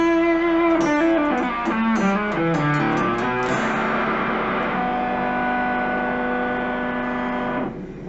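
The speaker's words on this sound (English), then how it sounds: "So when I'm playing, I have to really damp the strings that I'm not playing, or I get all this feedback." Electric guitar through a Jamstack amplifier: a few plucked notes give way to a sustained, humming feedback tone that swells and holds for several seconds before cutting off, loud and close with no talking.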